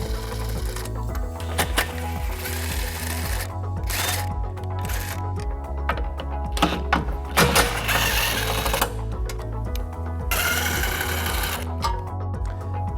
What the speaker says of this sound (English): We're going to remove those using a 13mm socket.